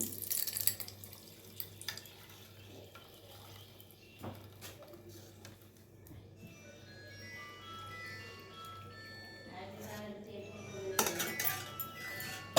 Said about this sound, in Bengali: এবার ছেঁকে তোমাদেরকে দেখাচ্ছি কতটা ঘি হয়েছে দেখো এটা ছেঁকে নিচ্ছি